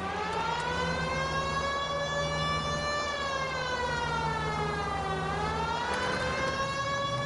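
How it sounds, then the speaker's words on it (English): A loud, continuous wailing police car siren in the video game L.A. Noire rises and falls slowly in pitch, close and unbroken throughout, with a low engine hum beneath. "Hear the siren"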